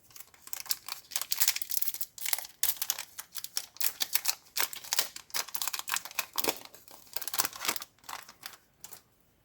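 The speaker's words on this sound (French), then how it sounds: "on va ouvrir le 4e booster." Trading card booster pack from a display box being torn and crinkled open, a rapid series of close, dry rips and foil rustles in bursts with short pauses, no talking.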